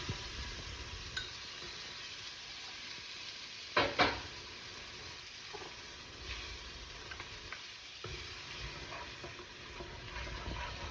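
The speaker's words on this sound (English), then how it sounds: "We've got this on saute." Charro beans ingredients sautéing in a skillet give a steady low sizzle throughout, with a sharp louder clatter near the four-second mark and occasional soft stirring scrapes.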